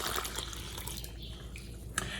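Warm water pours steadily into a bowl of falafel dough mix, making a continuous splashing trickle with one brief sharper splash near the end.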